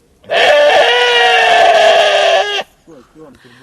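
A ewe on a farm in wintry weather lets out one long, loud, wavering bleat close up, followed by a few short, fainter bleats.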